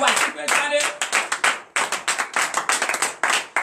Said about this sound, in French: Veuillez vous asseoir et donner l'acclamation.